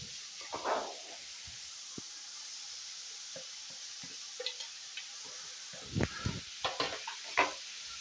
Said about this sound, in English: so I'll fry them together till they get soft or become translucent